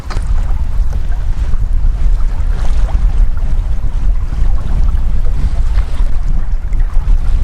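Strong wind gusts at a wild campsite in autumn, a loud, steady roar with heavy low-end buffeting and rushing noise throughout, no voices.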